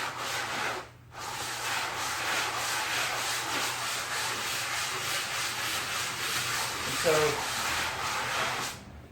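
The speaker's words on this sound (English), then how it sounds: "once I start sanding," Sanding a quilted maple Telecaster guitar body, a steady, close, rhythmic rubbing hiss that runs almost unbroken with a short pause near the start, while someone speaks briefly.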